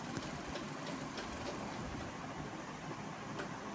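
A sewing machine running a double seam while stitching a blouse, a continuous fast mechanical whirr and rattle, steady and fairly quiet, with no talk.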